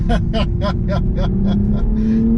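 A Toyota Supra's 3-liter six-cylinder engine drones and climbs slowly in pitch as it revs while moving, with a voice laughing in short rhythmic bursts over it.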